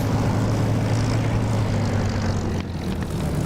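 A Spitfire's propeller engine in the DCS flight simulator, running at takeoff power as a steady, loud, droning roar with a low throbbing hum and no pauses or voices.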